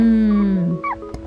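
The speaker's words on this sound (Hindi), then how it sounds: "दीदी देखो, वहाँ एक कुत्ता है।" A dog at a zoo gives a loud, close howl that slides downward, then breaks into a few shorter whimpering yips.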